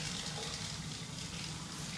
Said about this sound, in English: you need to pour that on the aluminium